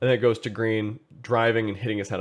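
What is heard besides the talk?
No distinct noise like a dog, phone or traffic.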